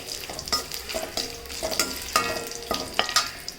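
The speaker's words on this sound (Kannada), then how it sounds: "ಗೋಡಂಬಿ ಹಾಕ್ಕೊಂಡು ಹುರ್ಕೊತೀನಿ." Cashews frying in a tempering of oil over low flame, with a soft steady sizzle broken by repeated sharp scrapes and clinks of stirring, close and with no talk.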